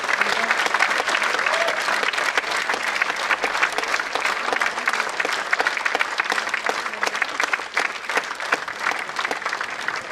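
Loud, sustained applause from a theatre audience at a Nautanki stage play, many hands clapping densely and steadily for about ten seconds without pause.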